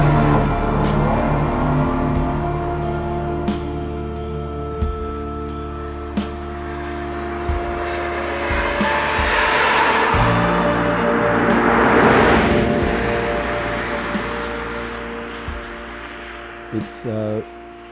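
Hans Stuck's 'Batmobile' race car drives at speed, a steady loud engine drone with harmonic layers that swells and fades over the run, and faint ticks and a short stuttering burst near the end.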